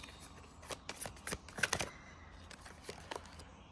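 Tarot cards shuffled and laid out by hand on a damp outdoor table, a run of crisp papery riffles and slaps, near and fairly quiet, with no talk.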